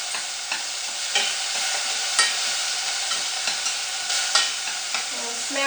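Shrimp frying for a quick noodle dish, a steady broadband sizzle with repeated stirring clatters and scrapes at fairly regular intervals, close and fairly loud with no talk.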